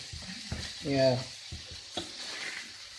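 Bolognese sauce frying over a gentle simmering heat, giving a steady soft sizzle with occasional stirring clatters and a brief louder bubbling burst, close and moderately quiet.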